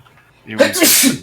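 A single close, loud human sneeze bursting out suddenly in a quiet room, followed by a short tail.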